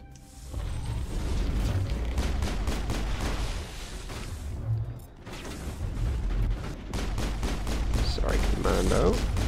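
Gunfire in Mass Effect, rapid repeated weapon shots in dense bursts over a steady combat din, with a short pause midway and a voice speaking toward the end.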